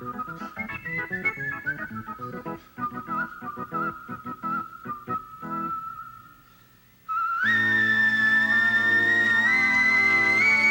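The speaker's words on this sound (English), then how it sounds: "Now it's whistling" A melodic whistled tune from a live television performance drifts between notes over musical accompaniment, then the backing swells louder and the whistling continues on a higher, steadier line.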